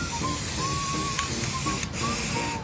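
A steady, close hiss of spray paint, sprayed for hydro-dipping a skateboard, runs throughout, with a brief dip near the end.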